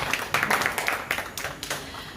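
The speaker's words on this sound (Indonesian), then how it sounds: "Boleh dong tepuk tangan ya." Audience applause at a children's reading talk show in Bekasi, scattered hands clapping in uneven bursts at moderate volume, thinning out over two seconds with no speech over it.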